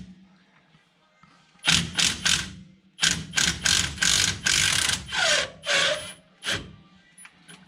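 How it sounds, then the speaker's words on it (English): A ratchet working loose the caliper bracket on a Chevy flatbed truck, with quiet shop ambience giving way to bursts of rapid clicking strokes in uneven runs, close and fairly loud, with some low background noise between them. "Hunter's gonna take the caliper bracket and caliper off."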